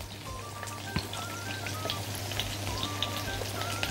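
Raw chicken pieces frying in oil give a steady crackling sizzle with scattered sharp pops, over a low constant hum.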